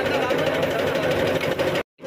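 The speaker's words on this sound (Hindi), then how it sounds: "मशीन चालू हो गया है, मशीन घूम रहा है धीरे धीरे।" A tractor-powered fodder chaff cutter runs steadily, a dense mechanical whirring and clattering drone that stops abruptly near the end.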